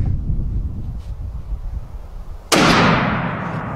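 A single loud .50 caliber rifle shot cracks outdoors against a tree, its sharp blast decaying into a lingering rumble over steady wind noise.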